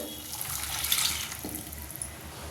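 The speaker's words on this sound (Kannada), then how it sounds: "ನಾನು ಬೇಯಿಸಿಟ್ಟಿದ್ದ ನೀರಿತ್ತಲ್ಲ ಕಡಲೆಕಾಳ್ದು ಅದನ್ನು ಉಪಯೋಗಿಸಿಲ್ಲ ಎದಕ್ಕೂ ಉಪಯೋಗಿಸಿಲ್ಲ ಈಗ ಅದನ್ನು ನಾನು ಆ ನೀರನ್ನ ಹಾಕ್ತೀನಿ" Chickpea cooking water is poured into a boiling pot, giving a steady, close rush and splash of liquid that continues without a break and without talking.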